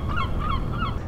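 Seabird calls ring out near a sailing charter boat, three honking, goose-like cries in quick succession over steady wind and water noise.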